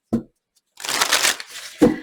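Tarot cards are shuffled in bursts: a short flick first, then a longer riffling rustle, ending with a sharp tap as the deck is squared, all close and with no one speaking.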